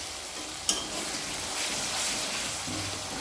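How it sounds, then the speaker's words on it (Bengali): Spice paste with tomato fries in mustard oil, a soft, steady sizzle broken by one sharp clink of a utensil early on, quiet and without talk. "ভাজা ভাজা হতে শুরু করেছে মশলাটা।"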